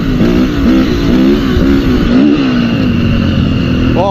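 A motorcycle engine revving hard and holding a strained, wavering pitch as the front wheel lifts into a wheelie, loud and close throughout with no talking.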